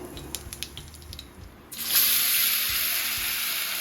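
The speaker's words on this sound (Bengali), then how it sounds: "গরম হইলে তেল দিয়ে দিলাম দিলাম প্রথমে" Hot oil in a pan, readied for onion and garlic in an okra and eggplant dish, bursts into a loud, steady hiss partway through after quieter kitchen clatter, then sizzles continuously to the end.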